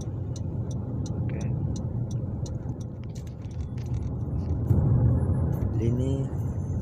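A Honda with a 1.5-litre (1498 cc) VTEC turbo engine cruises along a road and overtakes two motorcycles. A steady, loud rumble of engine and tyre noise runs throughout, swelling slightly as the car pulls past, with faint ticking above it.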